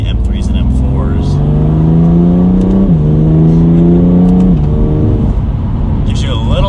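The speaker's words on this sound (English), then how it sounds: "It's got a nice exhaust tone, nothing too crazy, but it's got some muscle to it" Exhaust of a 2020 BMW M2 Competition on a test drive, its engine note dropping in pitch through downshifts, loud and steady inside the car with a voice talking over it.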